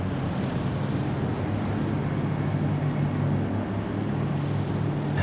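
Race car engines drone at Suzuka in a racing video game, a dense, steady, continuous roar from a full field of cars, with no voices over it.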